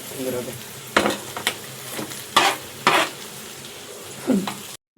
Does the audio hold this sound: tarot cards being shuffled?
no